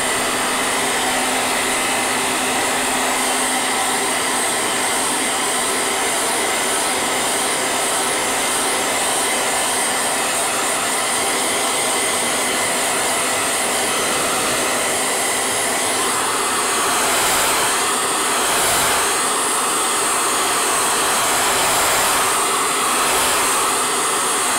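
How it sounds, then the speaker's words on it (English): A noisy old hair dryer blows steadily over a watercolour painting, giving a loud, constant whooshing roar that runs alone from start to end, its airflow wavering slightly near the end. "noisy old hair dryer."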